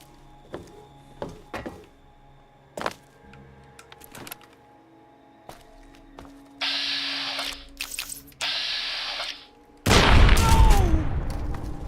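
Explosions from the video game Fallout: Tale of Two Wastelands: first several isolated thumps and pops, then a sustained hissing burst, and finally a loud, heavy blast that rumbles on to the end.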